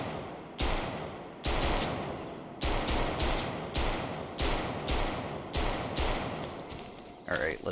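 Weapon gunshots in the Road To Vostok shooter game: about ten loud, evenly spaced reports ring out over a steady ambient hum, each with a sharp crack and lingering tail.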